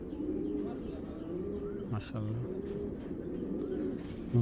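Giribaj tournament pigeons coo in low, repeated rolling calls close by, with light chirps. Someone talks over them throughout.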